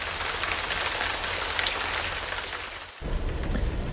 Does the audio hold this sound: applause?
no